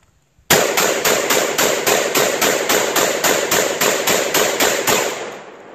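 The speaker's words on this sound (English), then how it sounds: "We're gonna dump these 20 rounds into that stump right there." A Lynx 12 AK shotgun fires rapidly into a tree stump outdoors, about fifteen loud, sharp blasts in a fast, even rhythm, ending in a short decaying echo.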